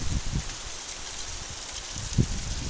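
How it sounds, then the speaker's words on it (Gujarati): Heavy, fast rain falling in gusty wind, a steady dense hiss with low rumbling buffets and an occasional louder thump, close and continuous with no voices. "જો મિત્રો મસ્ત પવન, ખૂબ જ ઝડપથી વરસાદ પડે છે."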